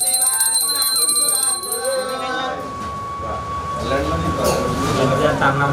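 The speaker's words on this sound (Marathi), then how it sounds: "घंटी स्मरण करा घंटी वाजवा" A temple bell rings in sustained tones during a puja while a priest chants over it, the ringing loud at first and then fading under the steady voice.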